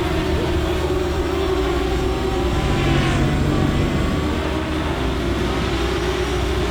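An FT VersaCopter racing quadcopter flies nearby, its motors giving off a constant, loud, buzzing drone that holds steady throughout and swells slightly midway.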